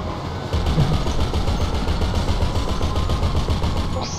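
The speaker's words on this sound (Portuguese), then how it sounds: "É o trem de longe, de longe." Distant train rolling along in GTA V Online: a steady rumbling, clattering drone with rhythmic wheel beats that holds for several seconds, with game sound effects mixed in and no speech.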